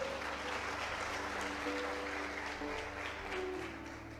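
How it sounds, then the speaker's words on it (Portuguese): A church congregation applauds, a broad continuous clapping that fills the room with a faint hum underneath and tails off slightly at the end. "dá um brado de vitória em um aplauso ao Senhor"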